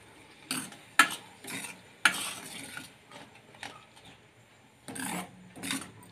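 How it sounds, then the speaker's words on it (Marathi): Ground spice paste (vatan) fries in hot oil for pungali patodi, stirred in repeated scraping bursts over a soft sizzle, close and fairly quiet. "तेल सुटेपर्यंत आपल्याला हे वाटण तेलामध्ये पलटवायचं आहे।"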